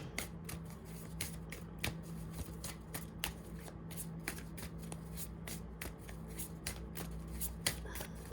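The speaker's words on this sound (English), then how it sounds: "pull a life purpose card or 2 to see what this is about for you guys" Life purpose cards being shuffled by hand: a close, continuous run of crisp riffling flicks and slaps in an even rhythm, with no talking.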